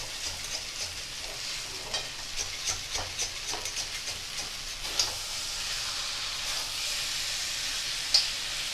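Taro stolons sizzle in a kadai with spices, a continuous hiss of frying broken by occasional stirring scrapes and a couple of sharper ticks.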